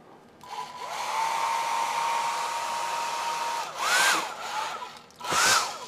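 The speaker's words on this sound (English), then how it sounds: "so I turn the hair dryer on" A hair dryer, used on model static grass and trees, hums steadily at close range, with a steady whine that rises and swells briefly twice near the end.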